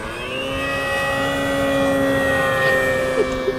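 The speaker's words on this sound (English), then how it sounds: "the plane that's flying behind me" An E-flite Air Tractor 1.5m RC crop-duster model plane flies nearby, its electric motor giving a steady, fairly loud tonal whine with slight pitch shifts, heard alone without talk.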